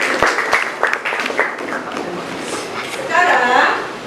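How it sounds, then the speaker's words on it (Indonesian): Class applause during an Indonesian classroom lesson observation, with scattered claps and a busy room of children, voices chattering and rising over the clapping toward the end. "tepuk tangan buat."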